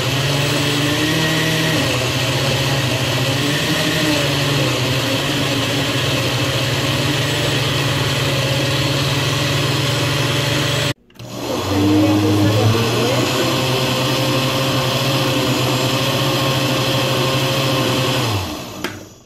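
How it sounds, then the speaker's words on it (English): A blender purees mango for a mango lassi, with a loud, steady motor whir that pauses briefly and then resumes at a higher pitch before winding down near the end. "alafu tutaenda kusaga mango yetu. Tutaisaga hapo, uko tayari na blender lako."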